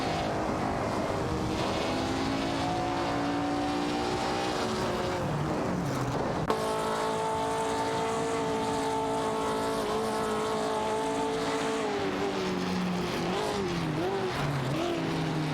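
Race cars in an AI racing video game, including a Mercedes-Benz 300 SLR and a Maserati 450S, give off a steady, droning engine note that rises in pitch, drops with a shift, then climbs again, fairly quiet throughout.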